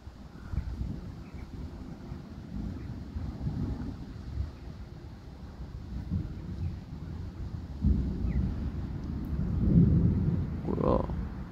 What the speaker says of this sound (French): ça tonne même là-bas